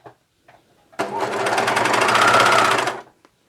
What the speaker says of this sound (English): I'm lowering the foot and I'm cover stitching.